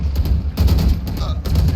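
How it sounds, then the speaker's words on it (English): Rapid bursts of gunfire from a Valorant tournament match ring out loud and close, several shots crackling over a dense, booming game mix. "Here's 2 gunshots now."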